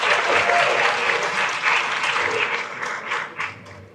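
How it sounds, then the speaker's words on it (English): An audience at a Model United Nations conference applauds for an organiser, a thick burst of many hands clapping that slowly thins out toward the end, with no one speaking over it. "if you could give her a hand clap"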